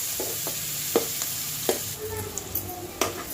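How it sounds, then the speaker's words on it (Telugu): Onion and green chillies frying in a pan for a cucumber and prawn curry, a steady sizzle with several sharp utensil scrapes and clinks spaced through it, close and with no talk. "కొంచెం వేగినాయి అనుకున్నాక ఉల్లిపాయ పచ్చిమిరపకాయ వేసేసుకొని కొద్దిగా వేగనివ్వాలి."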